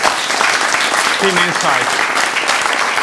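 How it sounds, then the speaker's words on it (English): Sustained applause from an audience after a team's final pitch at a hackathon, with a voice talking over the clapping. "Give them a round of applause"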